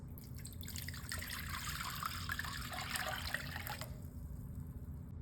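Water pouring steadily into a large mixing bowl that already holds a stick of butter, a continuous splashing trickle for several seconds before easing off near the end.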